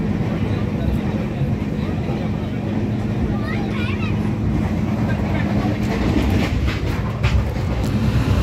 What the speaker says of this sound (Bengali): ট্রেন জার্নি করছি এখন